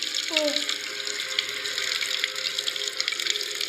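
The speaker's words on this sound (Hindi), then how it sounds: "वॉशरूम में जाकर अपने बाथ टब को भरने लगी" Water pours steadily from a tap into a bathtub as it fills, a continuous, fairly quiet hiss with a brief faint voice-like tone near the start.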